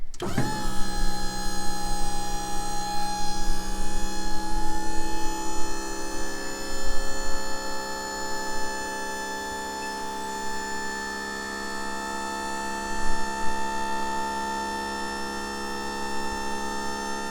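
A battery-operated hydraulic pump raises a Big Tex dump trailer, whining with a steady electric motor hum and a sharp onset, running continuously and close by with a slight rise in strain midway.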